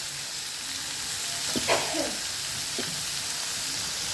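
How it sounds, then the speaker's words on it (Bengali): Ginger paste fries with mixed vegetables in a pan, giving a steady hiss of sizzling with a couple of brief scraping stirs partway through. "আদা বাটাটা বেশ ভালো করে আমি কষিয়ে নিচ্ছি সমস্ত সবজির সাথে"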